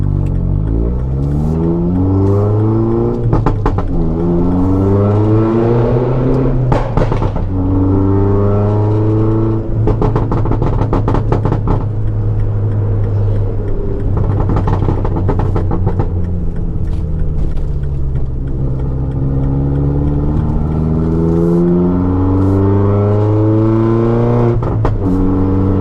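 A MINI's engine revs hard and accelerates over and over for a long stretch, loud and close, its pitch sweeping up and down with each burst of throttle, with no talk over it.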